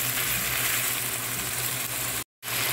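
Chicken with onion and ginger paste frying in a pan, giving a steady, even sizzle that hisses continuously before a brief cut of silence near the end.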